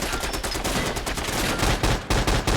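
The Colt Mk.40 L/45 automatic cannon in Fallout 4 fires in a loud, dense burst of rapid repeated booming shots that continues with no pause, heard close by.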